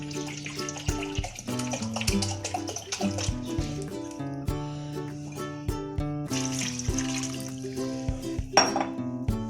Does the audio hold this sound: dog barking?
no